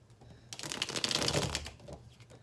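Tarot cards drawn from a deck for a reading, a burst of papery riffling and flicking that swells and fades, with no talk.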